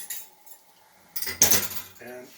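Eggs being whisked for an omelette in a kitchen, a few quick metallic clinks of utensil against bowl in a short burst, close and moderately loud in a quiet room.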